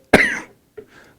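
A single sharp, close cough is followed after a brief pause by a softer, shorter throat-clearing sound.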